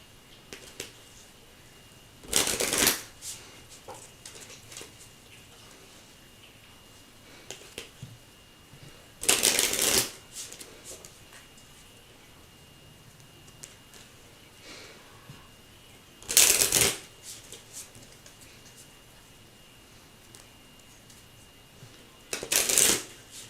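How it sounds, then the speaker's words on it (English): A Kipper card deck shuffled in four separate bursts of loud, papery riffling, each lasting about a second, with long quiet gaps between them and no talking. "I guess we're going to get out the Kipper deck."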